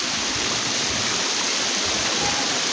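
Water of a stream rushing steadily over rocks, a dense continuous flowing roar close by with no voices, loud and unbroken throughout.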